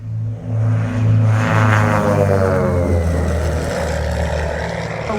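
Twin piston engines of a light airplane run at full power in flight, a loud, continuous droning roar with a steady throbbing pulse and rising, layered harmonics, close and unbroken throughout.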